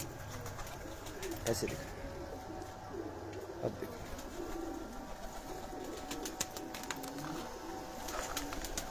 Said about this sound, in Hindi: ये वेशी कबूतर है, इनका शौक करें आप।